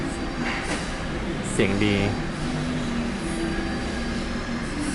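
A train rumbles into a station with a wheel squeal and a hiss of brakes, while a voice speaks briefly over the steady rail noise.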